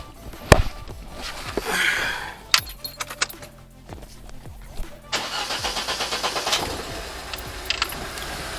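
A VAZ 2107 car, keys jangling and the starter cranking before the engine catches, then settling into a steady near idle with mechanical clatter.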